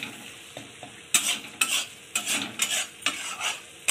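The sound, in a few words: masala with yogurt being stirred and fried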